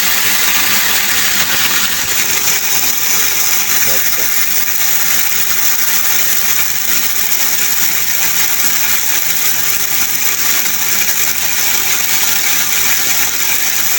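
An electric grain mill grinding wheat, a steady motor hum throughout with a faint grinding rattle, a continuous mechanical drone that stays even in loudness from start to finish.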